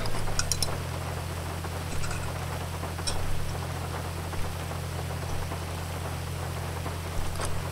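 Steady rain hisses across the scene in a live roleplay video game, a constant wash of drops over a low, droning vehicle engine hum, with a few sharper ticks near the start and end.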